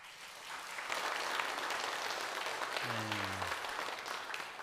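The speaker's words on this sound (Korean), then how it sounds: "우리 찬양대 한번 박수 한번." A church congregation applauds its choir at a Sunday worship service, a dense, steady wash of clapping that fills the room for several seconds, with a brief low sustained tone rising underneath near the end.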